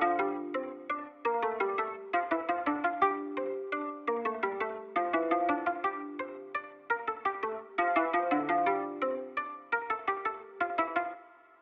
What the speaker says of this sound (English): is to make this little ambient plucked pattern